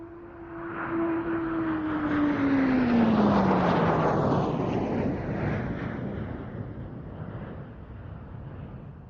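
English Electric Canberra jet with two Rolls-Royce Avon engines passing at an air show: a loud, broad jet roar that swells and then slowly fades, with a whining tone that falls in pitch as it goes by.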